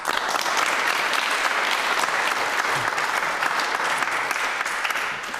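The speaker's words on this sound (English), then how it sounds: "that question gets a round of applause" A studio audience on a televised political debate panel show bursts into sustained, loud applause after a question about air passenger duty, a dense, even wash of clapping with no talk.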